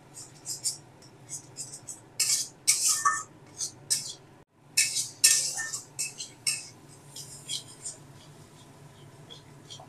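Kashmiri chilli powder being stirred into a fish curry with green mango in a pan, heard as repeated metallic scraping bursts of a spoon against the pan over a steady low hum.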